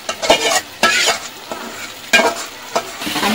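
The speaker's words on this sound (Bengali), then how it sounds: "আমি ভালো করে নেড়ে দিচ্ছি।" Hilsa fish being stirred into fried masala, close and loud scraping strokes over a constant sizzle, four or five bursts in quick succession.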